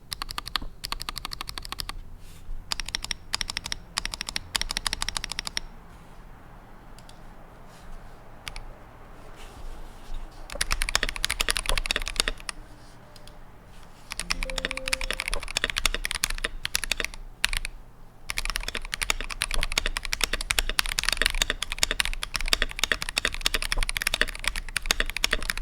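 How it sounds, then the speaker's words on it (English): Close, rapid typing on a GMMK Pro 3 HE wireless mechanical keyboard comes in long rattling bursts broken by brief lulls, with the keys sounding alone and nobody speaking. "There's the sound test on the keyboard."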